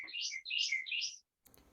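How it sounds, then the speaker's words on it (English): Birds chirp outside in three quick, bright bursts of song close together, followed by a short silence and faint low background noise. "I hear birds."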